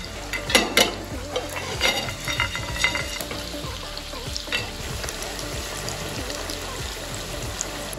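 Cinnamon, cardamom, cloves, nutmeg and star anise dry-roasted in a pan for chicken biryani, with busy clinks and scrapes of a spoon over a low rustling sizzle, dense at first and thinning out later.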